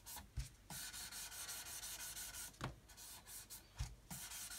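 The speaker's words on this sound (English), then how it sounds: "I'm going to come along with a sponge, and I'm going to use, this is a 1000 grit, and I'm just going to polish" A 1000 grit sanding sponge rubs over a surface while polishing out undulations, a steady soft scratchy swish running throughout with a few brief louder knocks, close and alone with no talk.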